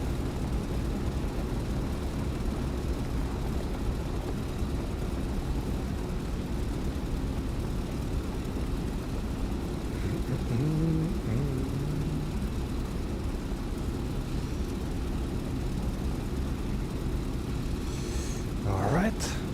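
P-47 Thunderbolt radial aircraft engine in DCS World, taxiing off the runway: a steady, loud low propeller drone runs throughout, with a brief rising engine whine near the end; someone talks over it.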